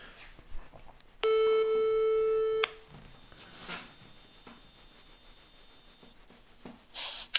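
A telephone ring tone sounds once while a call is being placed: a steady, loud electronic tone lasting over a second, then a quieter, thinner tone continues. Faint background noise surrounds it, with no talk.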